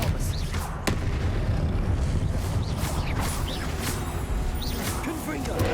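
Expelliarmus disarming spell cast during a busy Hogwarts Legacy battle: a loud, sharp magical crack amid continuous booming, crashing combat noise, with the clatter of spell impacts throughout.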